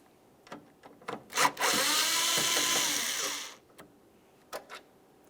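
A power driver briefly whirs to back out a single Phillips head screw from the corner lamp of a 2002-2005 Ford Explorer under the hood, framed by soft clicks and handling noises.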